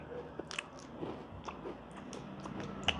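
Chewing of a coffee-flavoured chocolate with nuts inside, close-up soft crunches and bites at an irregular pace over a quiet background.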